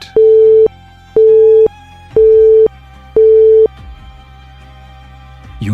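A telephone busy signal follows a dead line on a phone call, sounding as four loud, evenly spaced beeps, each about half a second long with equal pauses, alone and clear.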